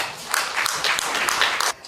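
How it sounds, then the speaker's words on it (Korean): An audience at a book launch event for an art archivist applauds the museum director, a brief, full round of clapping that stops abruptly. "박수 한번 주시죠"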